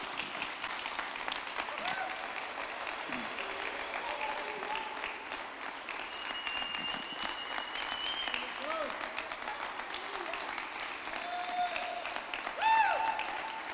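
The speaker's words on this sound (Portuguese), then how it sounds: "Mais uma salva de palmas para Jesus." A church congregation at a Sunday service claps together, a moderate, continuous patter of many hands spread through the room, with faint tones and room noise underneath.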